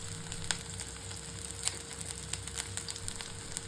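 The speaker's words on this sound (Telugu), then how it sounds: "వేడెక్కిన నూనెలో సన్నగా కట్ చేసుకున్న రెండు మీడియం ఉల్లిపాయలు లేకపోతే ఒక పెద్ద ఉల్లిపాయ వేసి ఉల్లిపాయ రంగు మారేంత వరకు వేయించుకోవాలి" Thinly sliced onions frying in hot, foaming groundnut oil, a quiet continuous sizzle dotted with soft crackles and light pops.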